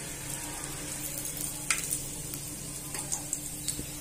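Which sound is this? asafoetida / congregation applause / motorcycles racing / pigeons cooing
asafoetida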